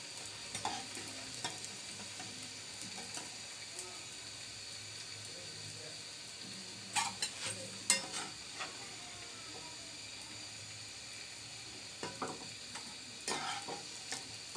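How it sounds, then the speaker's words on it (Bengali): Small prawn fritters (chingri bora) fry in oil, a soft steady sizzle with occasional bursts of popping and spatula knocks, fairly faint and close. "তো আমার চিংড়ি মাছের পরা ভাজা হয়ে গেছে আমি লাল লাল করে বেজে নিয়েছি"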